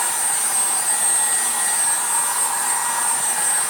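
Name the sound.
heat gun on low drying a chalk transfer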